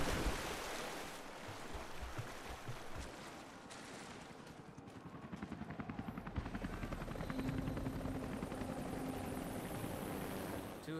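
Two helicopters in a combat scene from Rise of the Tomb Raider, defending a village, produce a loud, continuous rotor roar with a rhythmic blade chop that grows stronger toward the end.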